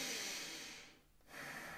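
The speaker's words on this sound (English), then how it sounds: "Long, heavy breath." A long, heavy breath close to the ear, airy and hissing, with a short dip near the end before the airflow resumes.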